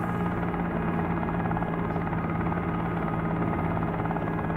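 A simulated helicopter engine in a flight simulator game hums and whirs steadily as the throttle is brought up, a continuous droning rotor sound with no break.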